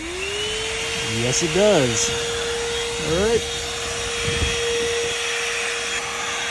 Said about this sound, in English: So in theory, this vacuum cleaner should turn on.